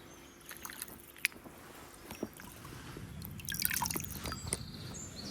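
Gentle flowing water of the Seine's spring-fed source stream, with soft drips and trickles, close by and steady, a few brief knocks and splashes of someone stepping in, no voices.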